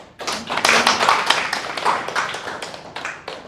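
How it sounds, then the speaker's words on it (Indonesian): Classroom applause from a small group of students in a teaching session, a brief burst of light, quick hand claps that starts sharply, peaks early and thins out over a few seconds. "Oke, kita kasih aplaus ya."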